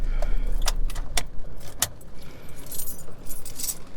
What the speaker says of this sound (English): let me take the keys out of the ignition